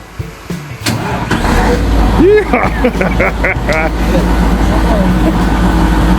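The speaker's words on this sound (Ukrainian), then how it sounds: "Тепер в нас задача завести Вот таку техніку." A 24-volt diesel machine, jump-started without batteries, cranks, coughs, then catches and settles into a steady loud idle, with people talking over it.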